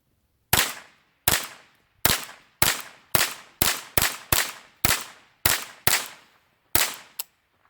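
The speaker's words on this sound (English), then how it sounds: "Now we'll rapid fire a couple of these" Rapid shots from a Ruger rifle fed by a BX-25 magazine, about a dozen sharp, loud cracks in quick, slightly uneven succession, each with a short decaying ring, alone without talk.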